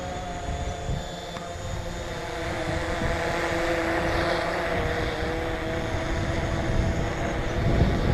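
A DJI Mavic drone flies steadily, giving a loud continuous motor whine with a broad rushing hiss that swells slightly over time and stays alone throughout.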